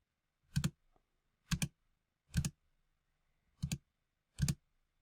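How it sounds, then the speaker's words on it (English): Five separate spacebar presses on a computer keyboard, each a crisp, close click spaced about a second apart in an otherwise quiet room. "I will continue to press spacebar until I see something else that I like"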